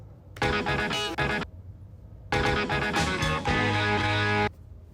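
Two short bursts of a chopped sample with a bright, brassy riff, cut off abruptly with a pause between them.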